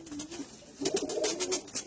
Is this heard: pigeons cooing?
yes